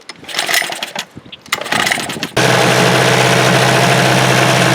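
A Mercury 5 hp two-stroke outboard motor catches after a few rough, sputtering cranks and then settles into a loud, steady, buzzing run close by, with no talking over it.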